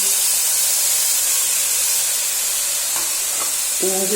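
Curry leaves sizzle and spit in hot oil for a crab curry, giving a steady, loud frying hiss close up with a few brief clinks near the end.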